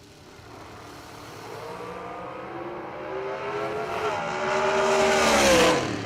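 A drag racing dragster at the Galot Spring Fling accelerates hard down the strip, its engine note rising and swelling louder as it gains speed.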